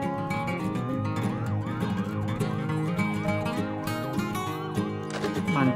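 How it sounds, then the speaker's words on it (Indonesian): Toy ambulance siren from a toy vehicle among a collection of toy trucks, a loud, steady electronic wail that cycles repeatedly and fills the whole clip. "mobil ambulan."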